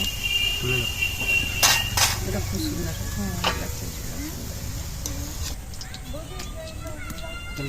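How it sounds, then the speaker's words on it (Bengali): Gulab jamun fry in hot oil with a continuous bubbling sizzle and occasional utensil clinks, while people talk over it in a home kitchen. "কত সুন্দর লাল লাল করে ভাজা হয়ে গেছে।"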